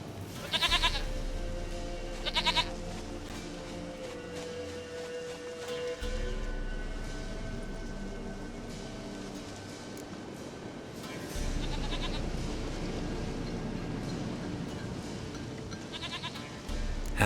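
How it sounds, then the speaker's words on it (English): A goat in the video game The Witcher 3 bleats in short, loud, wavering calls, two near the start and more later, over steady ambient game music and rustling. "Goat of mine, dearest, sweetest goat."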